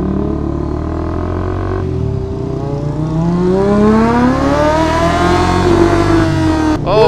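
A motorcycle rides past, its engine note rising in pitch as it approaches, holding loud and near, then shifting as it goes by.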